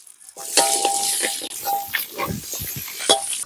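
Butter sizzling in hot cooking oil in a pan, a steady bright crackle with scattered pops and light stirring clatter, close and continuous without talk.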